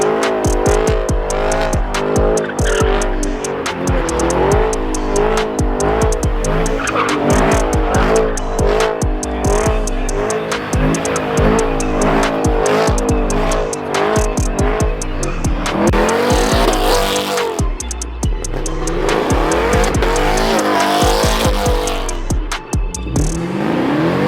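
Cars doing burnouts in a burnout pit at a racetrack takeover event, with loud, continuous engine revving and sustained tire squeal throughout, engines roaring and rising in pitch repeatedly, close and dominant with no speech.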